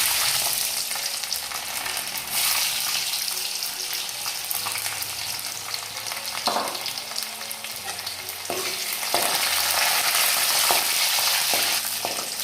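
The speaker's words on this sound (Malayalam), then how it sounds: "നമുക്ക് ഇതിനകത്തേക്ക് വെളുത്തുള്ളി ഇടാം." Garlic fries with mustard seeds in hot oil for a mango pickle, giving a loud, continuous close sizzle with occasional stirring scrapes and spits throughout.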